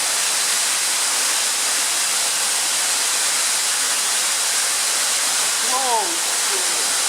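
Water pours and sprays everywhere at an underground waterfall in a flooded tunnel, a loud steady roaring hiss that fills the whole space without pause, with a faint voice briefly heard near the end.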